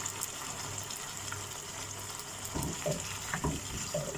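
Water is poured into a hot pan of chilli chicken to make gravy, a gurgling splash over faint sizzling, with a few louder pours toward the end.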